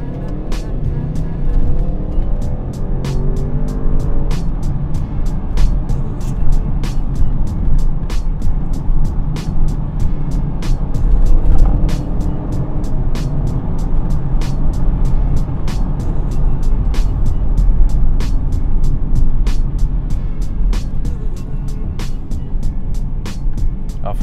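Audi RS6 C8 engine revving hard under acceleration, a loud, steady roar with rising pitch that fills the whole stretch, with regular ticking clicks running throughout and no talking.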